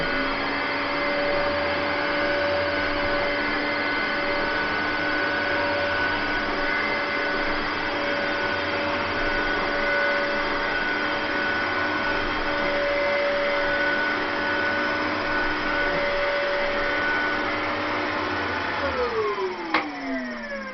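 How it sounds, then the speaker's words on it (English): A vacuum cleaner runs steadily on carpet, its motor droning at a constant pitch for most of the stretch before spinning down with a falling whine at the end; no one speaks. "I'm just going to give you a quick demonstration about the speed, really, about how to use the vacuum cleaner in speed wise."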